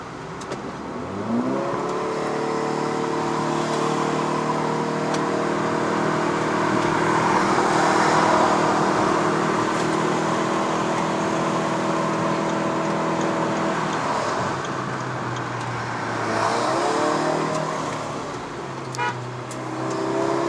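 A Proton Iriz 1.6L with a CVT climbs a hill on the Genting road in Malaysia. Its engine drones loud and steady as it accelerates and holds high revs, then eases off and pulls again. A faint horn toot sounds near the end.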